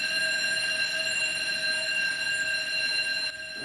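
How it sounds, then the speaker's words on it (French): An alarm rings out steadily for several seconds in a continuous, loud, high-pitched tone with no break, ending abruptly near the finish and with no voices. "C'est quoi cette alarme?"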